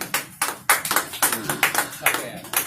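An audience at a Lucknow kavi sammelan claps after a poetry recital, with sharp, distinct hand claps falling in an uneven, fairly quick rhythm, close and moderately loud, with no talk over them.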